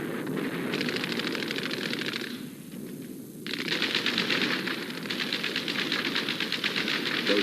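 Rapid, continuous automatic gunfire from a World War II battle on Corregidor in the Pacific, a dense rattling stream of shots that pauses briefly and then resumes, loud and steady without any voices.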